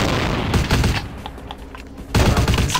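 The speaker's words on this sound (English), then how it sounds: "I have the shotgun." Heavy shotgun blasts boom in Vampire: The Masquerade – Bloodlines, loud dense bursts of fire that briefly thin out to scattered shots before erupting again at full force, close and overwhelming with no speech.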